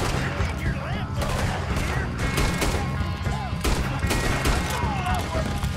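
Revolver gunfire in Red Dead Redemption 2 comes as rapid, overlapping shots in a dense firefight, loud and repeated over a constant bed of game noise.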